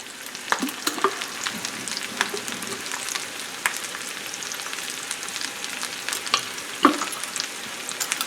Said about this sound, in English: I'm going to let them brown up on one side and try to flip them over